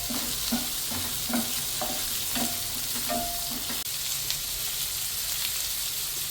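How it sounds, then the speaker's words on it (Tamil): Red, green and yellow capsicum is stir-fried in a pan for dry chilli chicken, with a steady sizzle and repeated scraping stirs of a spatula for the first few seconds before the frying carries on alone. "இதெல்லாம் அப்படியே மிக்ஸ் பண்ணிக்கணும்."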